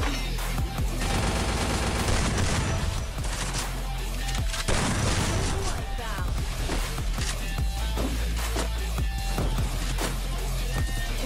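Rapid gunfire from a mobile shooting video game, dense continuous bursts and bangs layered over game music, loud and sustained throughout.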